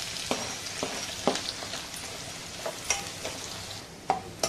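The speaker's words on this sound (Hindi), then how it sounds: "प्याज को हमने ब्राउन होने तक, ज्यादा भी हमने ब्राउन नहीं किया है, लाइट लाइट ब्राउन किया है" Chopped large onion frying in a pan until light brown for paya masala, with a quiet continuous sizzle broken by regular scraping and stirring clicks about every half second.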